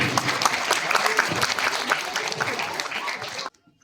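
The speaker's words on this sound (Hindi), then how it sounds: "जोरदार तालियां होनी चाहिए।" Dense, steady clapping from a crowd at a farewell function fills the space for several seconds, then cuts off abruptly into near silence.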